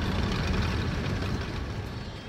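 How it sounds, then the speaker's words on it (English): A military vehicle's engine in the strategy game C&C Generals Zero Hour rumbles as a steady, heavy low growl with truck-like roar, loud and continuous, easing slightly toward the end with no speech. "Listen to that engine purr."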